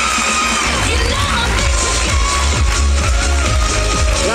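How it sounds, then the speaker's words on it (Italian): A gala audience applauds and cheers for a basketball team, a loud, dense wash of clapping and shouting voices that fills the whole stretch without a break. "una squadra che vince tutto si merita tutti gli applausi"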